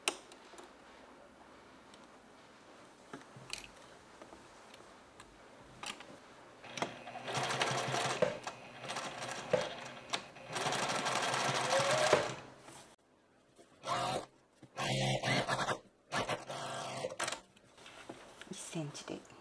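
A sewing machine runs in bursts, stitching a 1 cm seam on a garment, with a rapid ticking whir that starts and stops several times, fairly close and quiet.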